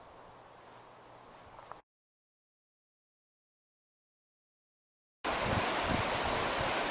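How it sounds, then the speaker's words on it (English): A fast-flowing river at a summer camp rushes as a steady broadband wash, fairly faint at first, then cut to silence for a few seconds before returning much louder and closer, with no voices. "This river, of course, is way faster than it's going to be this summer when you come to camp."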